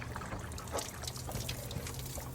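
Water trickles steadily while a semitruck's coolant reservoir is refilled, a close, continuous liquid dribble with a low hum underneath.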